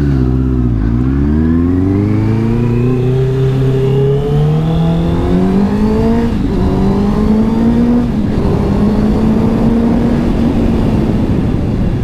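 A four-cylinder car engine revving loudly and close by, pitch climbing through repeated surges of acceleration with brief dips between, engine sound throughout and no talking.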